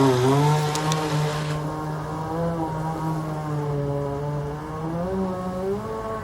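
The motor of a former Walmart RC boat whines steadily out on open water, a sustained buzzing drone that rises and falls slightly in pitch as it runs and turns.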